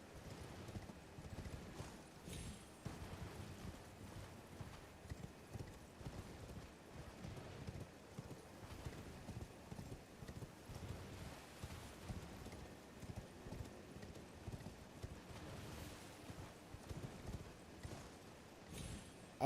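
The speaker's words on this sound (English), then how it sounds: "torrent clop through the sand or the rotted ground" Torrent, the spectral horse in Elden Ring, trotting over sand and rotted ground, a steady rhythmic clip-clop of hooves close by for the whole stretch with faint wind behind, no talk.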